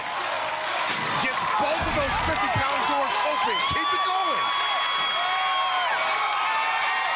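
At an American Ninja Warrior finals course in Dallas, a crowd cheers and whoops continuously, with loud bangs and thuds from the obstacle and a commentator talking over the noise.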